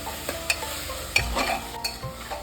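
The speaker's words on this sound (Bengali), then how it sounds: "এখন এই টমেটোর পেস্টটা দিয়ে দিচ্ছি। কিছুটা কষিয়ে নেব পেঁয়াজের সঙ্গে ভালোভাবে লাল লাল করে দিয়ে নেব।" Tomato paste and onions sautéed for mutton in a pressure cooker: a spoon scrapes and taps against the pot in irregular strokes over a steady low sizzle, close and moderately quiet.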